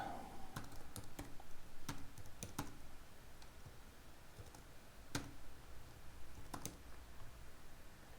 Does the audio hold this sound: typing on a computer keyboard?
yes